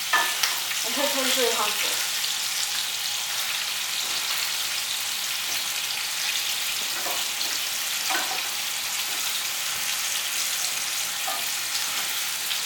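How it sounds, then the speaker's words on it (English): Bacon sizzling steadily in a pan on a stovetop, a constant crackling hiss with occasional stirring clinks, while a person speaks briefly over it at the start. "keep the bacon inside the pan, because if you don't, the grease will splatter out"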